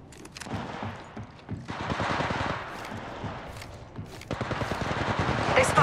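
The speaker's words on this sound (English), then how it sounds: "They're shooting at me!" Rapid automatic gunfire rattles in bursts during Apex Legends Mobile gameplay as Bloodhound, dense volleys that pause and resume, close and loud, with in-game character voice lines over the shooting.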